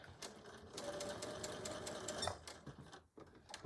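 A sewing machine runs a back stitch while sewing a bag. The needle rattles in a steady, fast mechanical rhythm that is close and fairly quiet, then pauses briefly near the end before it starts again.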